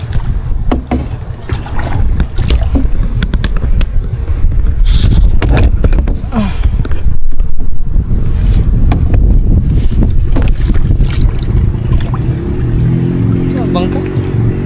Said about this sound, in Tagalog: Bangka.